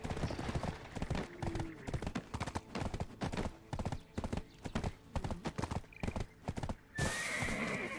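Horse hooves clip-clopping in a rapid, uneven rhythm with a neigh partway through, loud and close, from a game streamed live, ending in a burst of bright noise.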